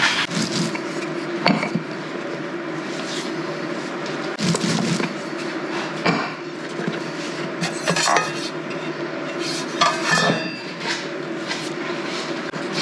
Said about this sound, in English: I'm just gonna set these on a plate.